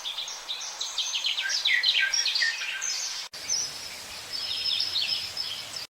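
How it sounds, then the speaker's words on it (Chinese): AI-generated birdsong and stream effect: bright, busy bird chirps and trills at close range over a continuous wash of flowing-water noise, with a brief cut about halfway through before the chirping resumes. "或者输入一段较长的提示词，生成鸟鸣和溪流的音效。"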